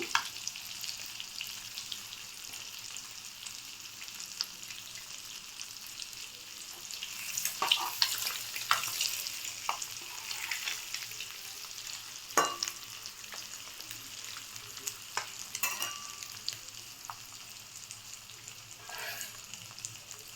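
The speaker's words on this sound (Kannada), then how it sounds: "ಇದನ್ನು ಒಂದು ಎರಡು ನಿಮಿಷ ಲೋ ಫ್ಲೇಮಲ್ಲಿ ಇಟ್ಕೊಂಡು ಚೆನ್ನಾಗಿ ಆ ಎಣ್ಣೆ ಜೊತೆ ಫ್ರೈ ಮಾಡ್ಕೊಳ್ಳಿ" Egg pepper gravy frying in oil over a low flame, a soft steady sizzle with occasional stirring scrapes and clinks, fairly quiet and heard alone.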